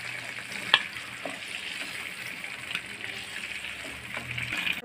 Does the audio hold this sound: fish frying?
yes